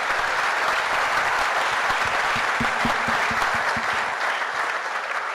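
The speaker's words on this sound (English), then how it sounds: "I'm going to ask you to give them another round of applause" Audience clapping at a volleyball hall of fame induction ceremony, a steady, full round of applause with a few sharper individual claps standing out in the middle, easing slightly toward the end.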